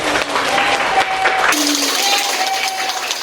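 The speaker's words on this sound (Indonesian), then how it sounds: "Kita kasih tepuk tangan." A classroom group breaks into applause, a dense burst of clapping from the students that cuts off partway and resumes more thinly, with a teacher's voice speaking over it.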